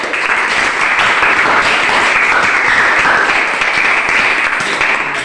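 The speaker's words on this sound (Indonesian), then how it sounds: "Tepuk tangan untuk kita semua dulu." A classroom full of students claps steadily in a dense, loud wash of applause that holds evenly for about five seconds before stopping abruptly.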